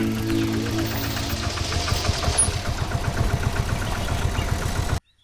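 A small auto rickshaw engine idles steadily with a rapid, rattling knock, close by and continuous, then cuts off abruptly near the end.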